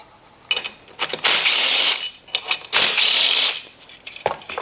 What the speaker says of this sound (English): Next, we'll remove these 8mm bolts on the side.